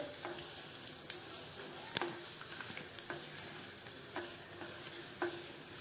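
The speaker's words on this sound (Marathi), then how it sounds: "काजूचे आणि बदामाचे काप आपल्याला व्यवस्थित भाजून घ्यायचे आहेत।" Sliced cashews and almonds dry-roasting in a pan over a low flame, with a soft steady sizzle and intermittent scraping stirs that tick and clink close by, no voices.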